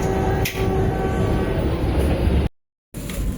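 A Vande Bharat express runs at about 110 km/h past Haridwar on the Dehradun to Anand Vihar route, heard from inside as a steady loud rumble and roar of wheels on rails, briefly cut off near the end.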